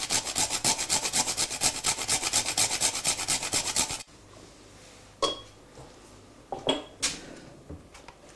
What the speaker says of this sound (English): And finally a good grating of nutmeg